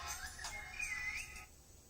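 A phone ringtone of bird calls chirps and sweeps in a short, clear whistling phrase, faint against a low background hum, then fades out.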